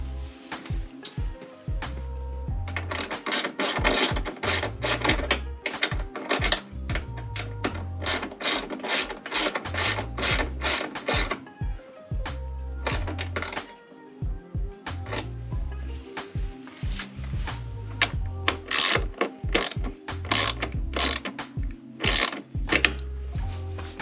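A ratchet wrench tightens a part on a Road Glide motorcycle with bursts of rapid clicking strokes and short pauses between sets, close and crisp over a low repeating thump.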